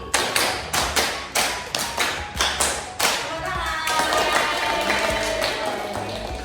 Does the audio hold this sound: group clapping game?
yes